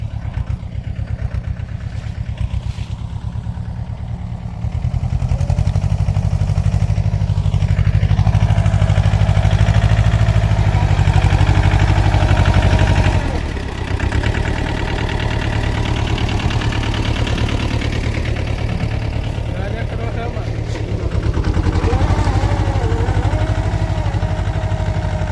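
Two tractors run together on a farm during cutter work and bund building, a steady loud low engine drone with idling and slight knock, swelling after a few seconds and dipping briefly mid-way, with no talk over it.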